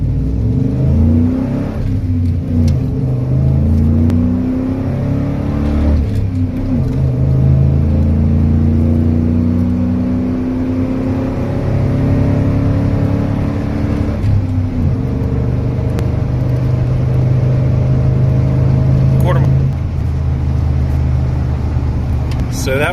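Ford F150 pickup making a quarter-mile run without nitrous, a sustained loud engine roar climbing in pitch through repeated upshifts, heard from the cabin with some talking underneath.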